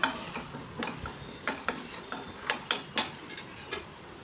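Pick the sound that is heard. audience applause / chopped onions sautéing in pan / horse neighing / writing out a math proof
chopped onions sautéing in pan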